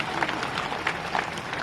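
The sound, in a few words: crowd applause at political rally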